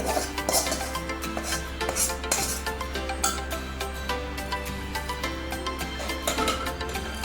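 Chickpea curry being tipped into a pressure cooker in a home kitchen, with repeated clatters and scrapes of a pot and spoon, busy and near.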